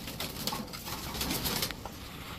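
Racer pigeons coo softly amid a steady wash of background noise and hiss, the calls low and muffled.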